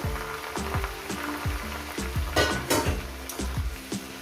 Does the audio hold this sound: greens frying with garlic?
yes